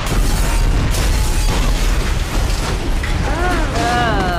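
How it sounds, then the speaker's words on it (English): A bomb explodes in the TV series Jessica Jones, a loud sustained booming blast with crackling debris filling the scene, followed by a faint high ringing tone. "Oh, the bomb."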